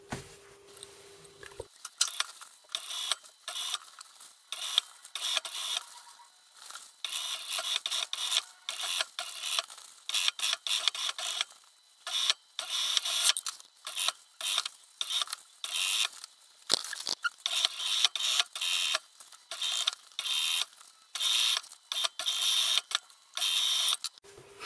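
A sewing machine stitches a zipper onto the front of a softshell vest, running in many short rattling bursts separated by brief pauses.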